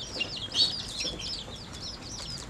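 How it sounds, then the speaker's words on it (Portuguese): A bantam hen clucks in soft, quick chirping notes while scratching about on gravel outdoors, a faint steady rustle underneath and no one talking. "Acabei de soltar a galinha."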